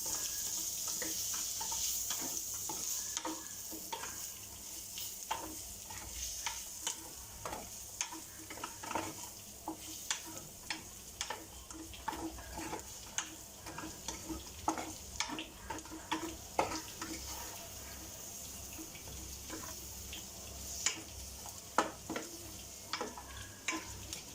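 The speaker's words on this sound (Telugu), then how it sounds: "ఇదంతా మిక్స్ చేసుకుందాం" A spoon stirs and mixes spiced food with garam masala in a frying pan, producing faint, irregular scrapes and taps over a low, steady sizzle throughout.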